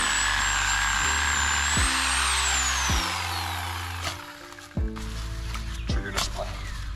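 Power saw bites into the roots of an eight-year-old dawn redwood, its motor whining steadily while rhythmic chugging bursts repeat about once a second and a few sharp knocks cut in near the end.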